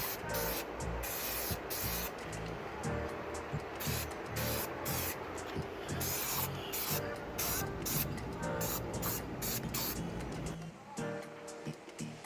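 A car seat is spray painted black for a KA AE86, with repeated short hissing aerosol bursts in a quick rhythm over steady background noise, close to the microphone.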